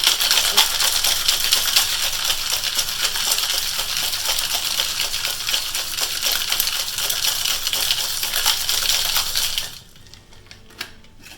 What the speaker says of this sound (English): So take those, and shake.